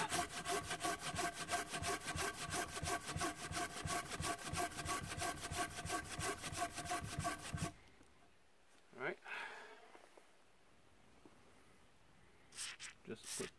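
A Corona camping saw rasps through wood in fast, even back-and-forth strokes for several seconds, then stops, leaving a few faint rustles and scrapes; close and moderately quiet, with talk around it.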